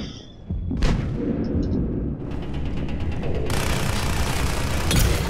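Combat in the video game Mass Effect 3 on Eden Prime, with loud grenade blasts and gunfire layered over a dense, continuous rumble of battle noise, a sharp burst early and a wash of crackling noise later.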